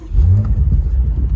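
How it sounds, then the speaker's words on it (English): A 2019 BMW M5 starts up nearby, giving a loud deep engine rumble that swells quickly and then settles into a steady low growl, with no voices over it. "So before we take off, we're gonna do one more startup for you"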